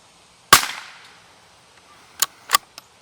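Shots from a Bergara .22 rimfire bolt-action rifle fired outdoors without a suppressor: one sharp crack with a short decaying tail, then two more cracks and a faint fourth report farther off.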